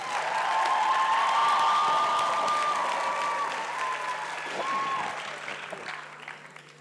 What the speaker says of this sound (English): Let's give our graduates another big applause